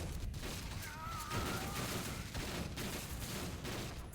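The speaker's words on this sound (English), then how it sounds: "there's a lot of people staring at me and shooting" Dense gunfire from enemies in the shooter game Fuse, a steady barrage of shots and bursts filling the scene continuously at moderate loudness, with no voices.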